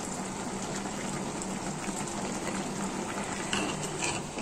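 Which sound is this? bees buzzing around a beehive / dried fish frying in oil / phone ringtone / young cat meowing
dried fish frying in oil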